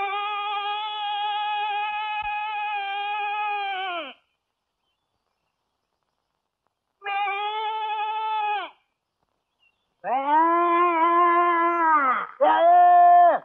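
A person imitates a goat's bleat with a loud, wavering voice: one long call, a short pause, a briefer second call, then two strained bleats close together near the end.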